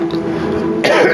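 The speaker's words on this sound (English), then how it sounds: "had a bit of a big cough coming" A single heavy cough from a commentator during a Gran Turismo 7 race, loud and close, bursting out abruptly near the end after a stretch of game engine drone.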